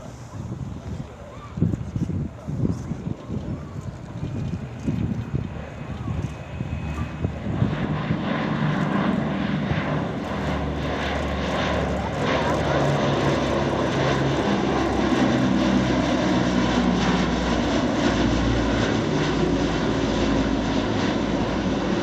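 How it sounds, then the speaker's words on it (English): A B-17 bomber, Yankee Lady, approaches and passes at the Thunder Over Michigan 2021 air show with a deep, growing propeller engine roar that swells and stays loud, with wind noise and faint voices early on. "here comes the B-17 Yankee lady again"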